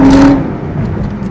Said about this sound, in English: Just wanted to tap her from a start a little bit and see how this traction control works.